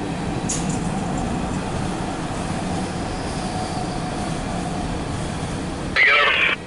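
A Metro subway train passes, its steady rumbling roar of wheels on rails filling the scene at close range, with a person talking briefly near the end.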